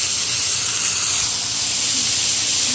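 Hash browns and onions sizzle on a Blackstone griddle with a steady, bright hiss that holds even and close throughout, no voices.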